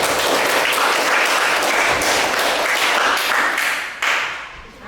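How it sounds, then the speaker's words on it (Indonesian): Classroom applause from a group of students, a dense burst of clapping that holds steady for several seconds before thinning out and fading near the end. "Tepuk tangan untuk Dewi."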